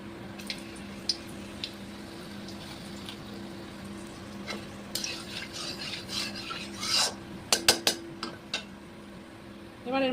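Whole cardamom, cloves and cinnamon drop into hot oil left from frying potatoes for an omelette curry, giving a steady soft sizzle with sharper crackles and pops bunching together later on.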